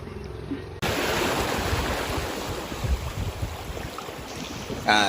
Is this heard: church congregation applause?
no